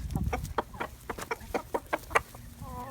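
Backyard chickens in a new coop cluck in quick, clipped bursts, a flock chattering close by with sharp rhythmic clucks and a short drawn-out call near the end.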